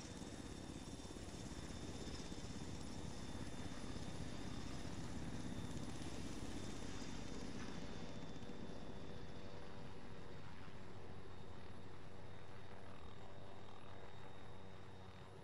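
A helicopter with a damaged rotor in Arma 3 flies steadily, its rotor and engine drone loud and continuous, with no talk over it.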